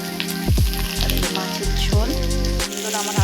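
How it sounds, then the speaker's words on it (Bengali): Potato curry broth bubbles hard in a pan after water goes onto oil-fried potatoes, giving a close, steady sizzle with repeated popping bursts and a low rumbling boil underneath. "এবার আমি জল দিয়ে সুন্দর আমার ঝোল ফুটছে টকবক টকবক করে"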